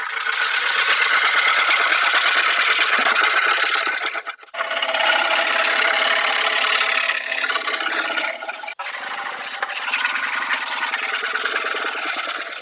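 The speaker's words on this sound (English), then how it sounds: "So I will need to scrape against the grain." A scraper drags steadily against the grain of triple-painted wood, making a loud, continuous close-up rasping scrape with two brief pauses between strokes.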